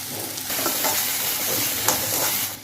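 Green chilies go into a hot oiled pan for a tuna bonda filling and hiss in a steady, close sizzle, with no talking.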